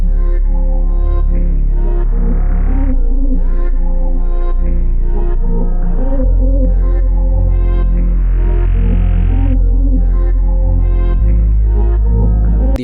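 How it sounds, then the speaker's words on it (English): Reversed, pitched-down vocal one-shot sample swelling over a slow RnB beat, with deep sustained bass and steady, loud layered pads and no spoken voice. "Originally it doesn't sound like this, but I reversed it and pitched it down."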